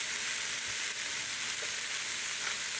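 Sausages and onions fry in a pan with an even, steady sizzle, fairly soft and unbroken, with a faint stir and no talking.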